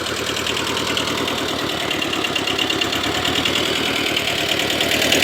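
A Kubota B6000 compact tractor's engine runs close by with a steady, rapid diesel chugging that holds evenly throughout, with no voices.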